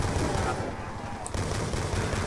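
Rapid gunfire from a weak gun in a first-person shooter, dense and continuous throughout, close and loud with faint game noise around it.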